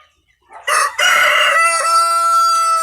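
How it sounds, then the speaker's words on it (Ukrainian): A rooster crows once, loud and close, its long harmonic call rising and then holding, after a brief quiet start. "І півник тут бігає разом з каченятами."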